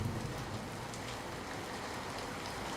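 Heavy, continuous rain pours down steadily, a dense even hiss with no breaks and no voices, during prolonged monsoon downpours that have flooded a state highway.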